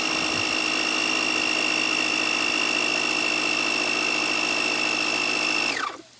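An air compressor runs loud and steady while it inflates a hand-truck tire, a constant mechanical drone with a high whine that cuts off abruptly near the end.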